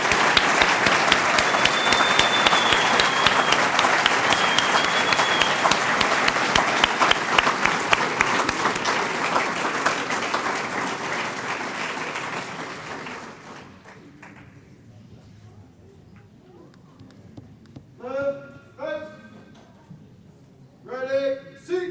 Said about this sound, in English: How about a round of applause for our newly pinned sheriff's deputies?